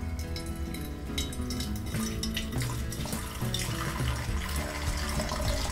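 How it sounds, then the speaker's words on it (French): Water pouring steadily into a tall vase holding a PCA-graded Pokémon card, a continuous close splashing and gurgling stream that stays loud throughout with no talking. "Et donc je vais verser l'eau."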